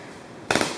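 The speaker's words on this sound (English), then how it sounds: "Shoot that gun" A paintball gun fires a quick burst of sharp pops at an outdoor paintball game, loud and close after a stretch of near silence.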